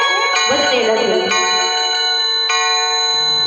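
A bright metal bell rings with a sustained, shimmering tone and is struck again twice, loud and close, while a voice speaks over the first part of it.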